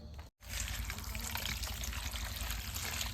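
Potatoes being washed in water make a continuous close splashing and trickling with steady sloshing. There is a brief gap near the start.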